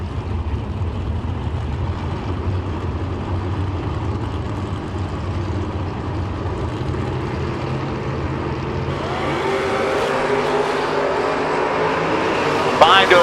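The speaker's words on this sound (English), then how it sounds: "Rob Snyder next up. 75 Ford Granada. 651 the Dylan, going to be chased by the Monza of Joe Theodore" Drag race cars, a 1975 Ford Granada and a Chevrolet Monza, rumble steadily at a racing event, with engine noise rising toward the end as they move off, under a track announcer's commentary.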